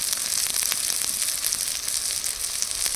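Spices with salt and turmeric sizzle and fry steadily in hot oil for a kohlrabi curry, a continuous close crackle with small spits and stirring, no voices.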